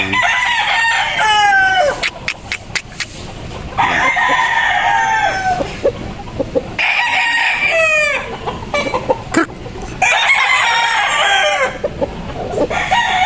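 Gilmore Hatch gamefowl roosters crow loudly and repeatedly close by, the long calls overlapping with steady clucking and chatter from the flock.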